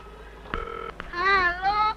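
A telephone is dialed during a drama film scene: a short steady keypad tone, a brief break, then a longer warbling tone that rises and falls, heard close with no talking.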